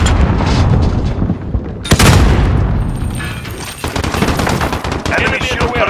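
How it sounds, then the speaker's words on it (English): Gunfire in Call of Duty: Modern Warfare multiplayer, rapid automatic bursts and sharp cracks with one loud blast midway, close and dense, with a voice calling out over the shooting. "Stop shooting me!"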